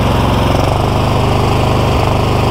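A Cub Cadet GT2 LX42 lawn tractor engine runs steadily up close with a rough, uneven pulsing throb, and a brief dip near the end.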